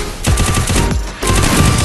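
Rapid automatic gunfire in a shooter video game plays as loud, close bursts of rattling shots, with a short gap between two sustained volleys.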